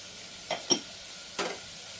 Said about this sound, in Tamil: இப்போ நான் குக்கரில் போட்டு அதை நல்லா வெறும் பேன்லேயே பரட்டிட்டு இருக்கிறேன்